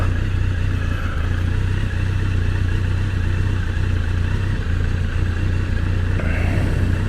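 A Kawasaki Voyager 1200 motorcycle cruises toward the beach with a steady, loud engine drone and rumble, constant wind and road noise throughout, heard close from the rider's seat.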